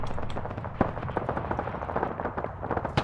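Rapid gunfire in the military shooter ArmA, with dense overlapping shots and bursts cracking loudly and continuously, some sharper nearby reports punching out above the steady barrage.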